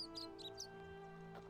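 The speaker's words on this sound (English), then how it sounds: "That bird is awfully loud, isn't it?" A video game bird chirps in quick, loud, high-pitched bursts over a steady humming game background, the calls clustered at the start with one more near the end.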